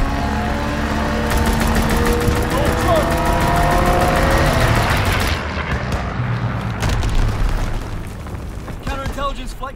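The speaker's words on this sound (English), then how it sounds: "Strafing run inbound." Aircraft strafing run in Call of Duty: WWII multiplayer Domination on the Flak Tower map, a loud sustained roar of engine and rapid gunfire with booms, dense game noise throughout that thins after about five seconds.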